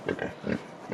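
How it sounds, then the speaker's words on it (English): Excited pigs grunt in a pen in a Baja Mexican village, a quick close series of four or five snorting grunts in rough rhythm, alone without talk. "a bunch of pigs in there"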